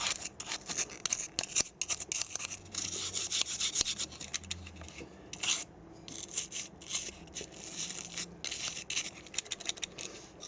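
An old toothbrush scrubs salt weathering off a model, giving dense, continuous bristly rubbing strokes close to the mic, in uneven bursts of scraping across the whole clip with no voices.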